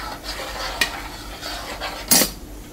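A paneer mixture stirred in a pot, with scraping and a couple of sharp clinks of a spoon against metal, close and without talk.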